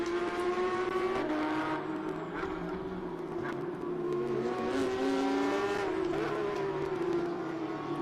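Porsche 991 race car at Circuit of the Americas during GT endurance racing, its engine howling in strong harmonic tones that rise and fall through gear changes, with other cars faintly audible.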